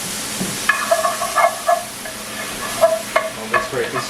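Food stirred in a hot pan on a stovetop burner during a cooking class, with soft sizzling and a few scraping, clinking utensil strokes against the pan in irregular bursts, fairly close.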